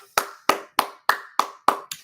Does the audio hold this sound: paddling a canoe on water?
no